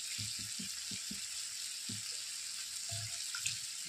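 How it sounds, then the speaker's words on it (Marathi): Asafoetida hitting hot oil in a pan, giving a steady, continuous sizzle that runs throughout at moderate level, with a few low knocks or thumps early on. "आता टाकत आहोत थोडंसं हिंग"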